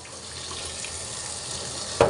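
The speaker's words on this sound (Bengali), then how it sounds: "এবার একটু ঠান্ডা জলে এটাকে ভালো করে ধুয়ে নেব" Cold tap water runs steadily over boiled chowmein noodles as they are rinsed in a kitchen sink, a constant close splash with a brief louder burst at the end.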